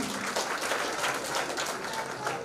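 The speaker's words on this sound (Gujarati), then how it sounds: "તો એમને ખાસ તાળીઓથી વધાવી લઈએ" Applause at a police camp farewell ceremony for a retiring officer, a steady wash of many hands clapping in a large room, moderately loud and continuous, with faint voices underneath.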